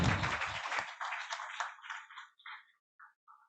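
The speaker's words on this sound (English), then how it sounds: "So let's give them another round of applause." Audience applause for a team of art and architecture speakers at a talk event, a burst of clapping that starts full and loud, then thins into a few scattered claps and fades out.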